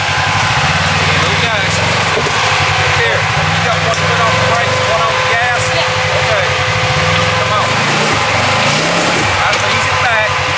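Polaris RZR side-by-side engine running steadily with throttle blips, a buzzing mid-pitched drone close by, with a voice talking over it throughout.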